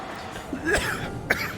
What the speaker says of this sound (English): Oh, geez, no, I don't want to keep coughing.